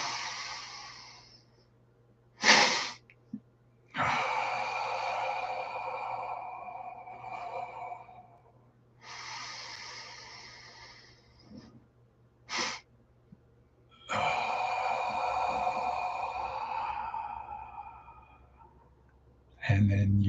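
A person doing deep breathing, several long forceful exhales emptied fully and followed by nasal inhales, close and fairly loud, separated by short sharp sniffs and quiet gaps.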